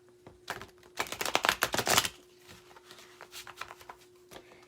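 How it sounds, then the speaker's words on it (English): Playing cards are riffled in a quick, loud burst of fluttering clicks, then a few softer taps and shuffles follow as the deck is squared. "Okay, Wendy, let me shuffle."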